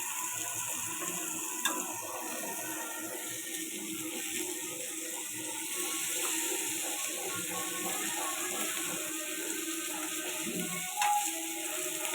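Steady, soft sizzling of fresh fish frying in oil in a pan, a continuous crackle with faint clinks now and then, no talking.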